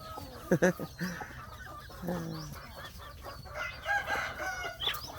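Chickens cluck nearby while a rooster crows, with scattered bird calls and a voice speaking faintly in the background.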